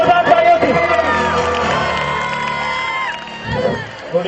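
An audience at a school's annual celebration cheers and claps for a welcome speech, a loud crowd roar with whoops and shouts that swells and fades.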